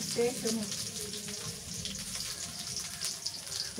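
Onions frying in hot oil in a pan for a home-cooked Bengali fish dish, a steady close sizzle with faint clinks throughout.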